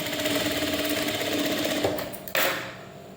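Sewing machine stitching the cross pieces of a blouse, with a fast, steady mechanical chatter close up that surges briefly, stops, then restarts and winds down.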